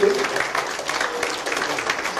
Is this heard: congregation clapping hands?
yes